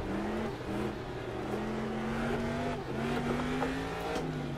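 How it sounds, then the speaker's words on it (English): A rally car engine runs under gentle throttle on a twisting road course, holding a steady, fairly even drone. The pitch rises slowly, then dips briefly before climbing again. The engine is heard from inside the car, with no talk. "easy on the throttle out so we don't overpower it"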